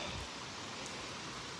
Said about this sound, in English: So I just washed it and it's still raining.